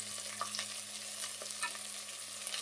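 Onions fry in a pan with salt added, a steady sizzle broken by scraping stirs, heard close and alone with no talk.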